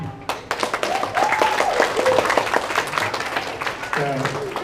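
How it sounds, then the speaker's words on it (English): Crowd applause with steady clapping from an audience, a voice speaking over it toward the end. "Y'all can clap for him."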